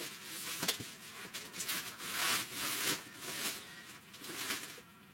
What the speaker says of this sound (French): il nous reste l'emballage plastique à retirer